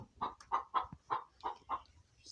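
Hens cluck in a backyard coop, a run of about seven short, rhythmic clucks close by, steady and fairly loud, with no talk over them.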